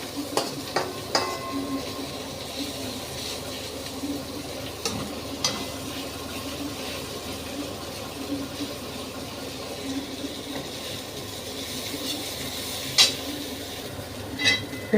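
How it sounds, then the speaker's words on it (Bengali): Bitter gourd (karela) frying in oil over high heat makes a dense, continuous sizzle that stays loud and even, with occasional clinks of a spatula against the pan. "তেলে ভাজা হচ্ছে কিন্তু পুরোটা। এখন পুরো বড় আঁচে দিয়ে রেখেছি"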